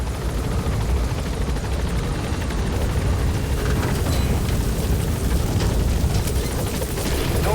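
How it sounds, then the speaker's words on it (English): An enemy helicopter patrolling in Metal Gear Solid V: The Phantom Pain, a continuous low rotor drone and rumble that holds steady throughout with no talk. "There's an enemy helicopter patrolling in the distance"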